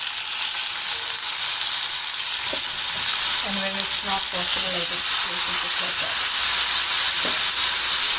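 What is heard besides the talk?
fish pan frying in olive oil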